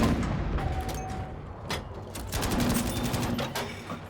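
Battlefield V battle noise with field artillery and gunfire: dense, continuous rumble under scattered sharp shot cracks and booms, fairly loud throughout with no talking.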